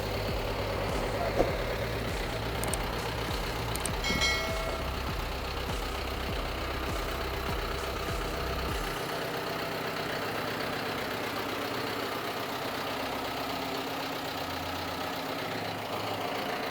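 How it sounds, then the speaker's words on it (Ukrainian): A 100-horsepower John Deere 6320 diesel tractor engine idles with a low, knocking rumble that drops away about halfway through, leaving quieter ambient noise and faint clanks. "Дуже чудова робота двигуна."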